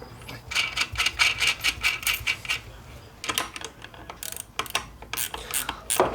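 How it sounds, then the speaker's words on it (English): A ratchet wrench tightens the master cylinder onto the brake booster of a 1988 Jeep Cherokee XJ, close rapid clicking in repeated bursts of strokes with short pauses between them, no voices. "Love these ratchet wrenches. So much quicker."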